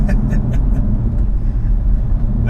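A Jaguar F-Type R's V8 engine rumbles loudly and steadily up close, a deep continuous drone with brief voices audible over it at the start and end.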